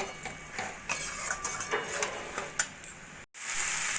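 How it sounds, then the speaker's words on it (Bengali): Kasuri methi being stirred into chicken keema in a pan: close, repeated scraping and clinking of a spoon against the pan over a faint sizzle, ending with a brief break and a louder burst. "কসুরি মেথিটাও ভালো করে মিশিয়ে নেব"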